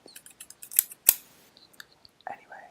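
Gold-plated scissors snip close to the microphone in a quiet room: a string of light clicks, two sharper, louder cuts in the middle, then a few fainter snips.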